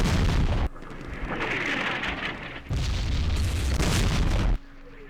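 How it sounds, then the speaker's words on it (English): Artillery shells burst in a Vietnam War strategy game battle, heavy booming blasts in two long rumbling waves that fill the foreground, loud and close, with no voices. "We missed that first shot with the artillery"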